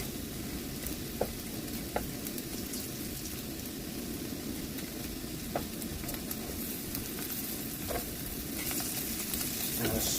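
Peas cook in a pan with cumin and garlic tempeh, giving a steady, close sizzle and frying hiss with a few stirring clicks and no talk.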